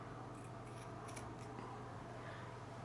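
Scissors snip through EEG electrode material, a short series of crisp quiet cuts heard close up with no talking.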